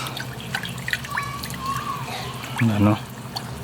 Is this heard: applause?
no